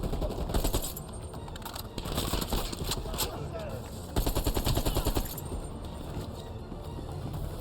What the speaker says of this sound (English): Man, I just love how the AK-47 handles in this game.